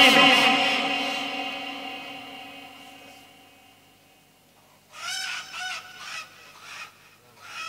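A rooster gives a loud, drawn-out crow close by that fades slowly, then a burst of shorter, choppier calls follows a few seconds later.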